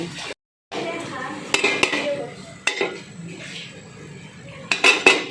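A metal lid comes off a cooking pot of boiling banana blossom, giving sharp clanks and scrapes of metal on metal, with a few louder clinks toward the end over a steady kitchen background.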